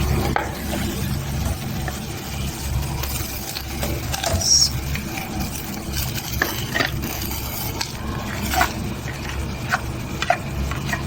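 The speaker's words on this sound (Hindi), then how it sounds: "अब इसमें हम ये जो बॉईल किए थे मैंगो वो हम इसमें डाल रहे हैं" Boiled mango pieces tipped into thickened sugar syrup for mango murabba and stirred, giving intermittent scraping and clinking spoon sounds over a low steady simmer, with no talk.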